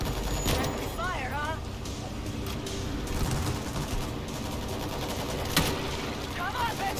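Gunfire in the World War Z video game: dense, continuous rapid shots and bursts over a constant noisy battle backdrop, with a few short, faint spoken cries mixed in.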